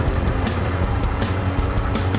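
RKS 100 cc motorcycle engine running steadily up close, a loud continuous rough drone with wind buffeting and no clear changes in pitch.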